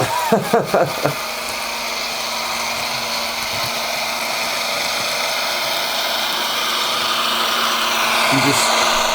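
A Bachmann Class 55 Deltic model diesel locomotive runs with a steady, loud engine drone and a high whine. A few sharp clicks sound at the start, and a brief swell comes near the end.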